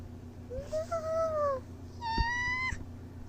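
A pet cat from a household of several cats meows twice, a longer drawn-out call followed by a shorter, higher one, fairly close and clear over a quiet indoor background.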